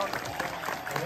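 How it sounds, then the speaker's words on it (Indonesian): An audience at a stage comedy show claps in a brief burst of applause, mixed with someone talking over it. "tepuk tangan untuk Sekegong."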